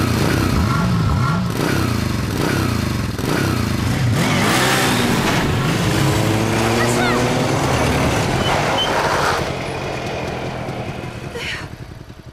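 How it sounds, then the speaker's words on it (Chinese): A motorcycle ridden in a drama scene, its engine revving and accelerating loudly with rising and falling pitch sweeps, clattering mechanical noise and voices talking over it throughout. "骑摩托车的人见过不少了，没见过像李队长技术这么好的"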